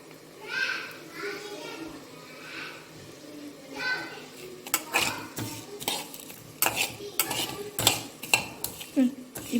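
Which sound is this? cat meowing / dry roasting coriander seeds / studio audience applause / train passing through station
dry roasting coriander seeds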